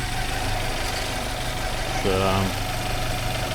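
A carbureted engine idles steadily through its initial run-up, a low continuous hum and rumble close by, with a voice briefly speaking over it partway through.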